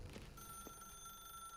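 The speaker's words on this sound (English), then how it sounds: "Now pick up the phone." A telephone rings in The Stanley Parable video game, a steady electronic bell tone held throughout the short moment, clear but fairly quiet.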